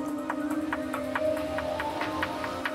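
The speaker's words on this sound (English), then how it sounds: "that was the sound of a guardian charging its attack" In Minecraft, a guardian charges its beam attack, giving a steady, humming electronic tone with a faint rising whine and soft repeated ticks, heard alone at moderate volume.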